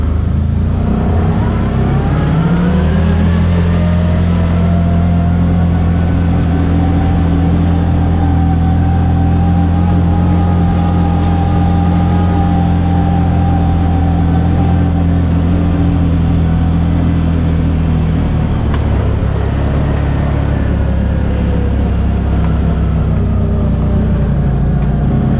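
A 2023 Gen2 CFMoto ZForce 800 Trail UTV driven around a track, its engine droning loud and close in a steady hum that climbs and settles through the lap, briefly easing off near the end.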